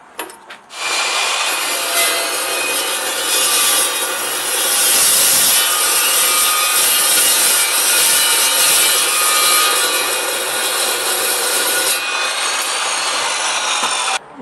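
An Evolution EVOSAW380 saw cuts through metal with a loud, steady, high-pitched grinding rasp that runs continuously for about eleven seconds before cutting off, with no talking.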